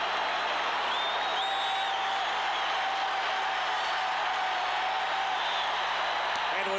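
Baseball stadium crowd roaring during a 1985 World Series game, a dense, sustained wall of cheering and applause that holds at a loud, even level throughout, with a broadcast voice talking over it.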